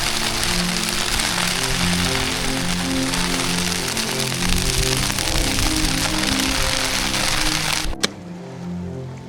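Steady, dense pattering of hail drumming on a surface at night while camping in the High Sierra, continuous and close, cutting off abruptly near the end with a sharp knock.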